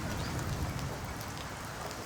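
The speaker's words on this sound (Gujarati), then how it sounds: "અત્યારે આ ધીમો વરસાદ છે" Light rain patters steadily on a rooftop terrace, a soft continuous hiss of drops with a low rumbling undertone throughout.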